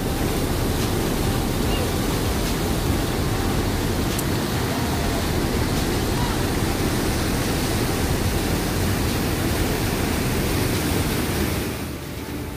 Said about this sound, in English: The water is calm on the top surface and going so fast as it goes